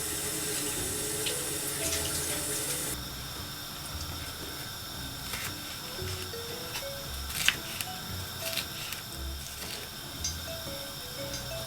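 Tap water runs steadily into a kitchen sink while vegetables are washed, a continuous close splashing stream with occasional light clatters and knocks, and no talk.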